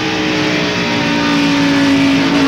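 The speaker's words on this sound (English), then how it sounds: "Here it is from Lake Speed's in-car camera." A 1991 NASCAR stock car engine roars steadily from an in-car camera during the Miller Genuine Draft 500. The drone is loud, close and unbroken, with a strong steady pitch and no talk over it.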